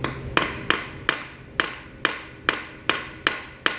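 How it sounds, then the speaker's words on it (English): Ball peen hammer tapping a bit into a screw on an XL175 motorcycle engine during removal: about nine sharp, evenly spaced metallic strikes, close and distinct, with nothing else heard. "I'll take a ball peen hammer and tap them in and then try it."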